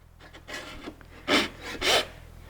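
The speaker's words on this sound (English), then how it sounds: "I'm holding the saw, so all I'm doing literally is pushing the saw and preventing it from falling on the ground" A hand saw cuts a kerf in wood for drawer making, a few raspy broadband strokes, the last two louder and longer, with a steady low hum underneath.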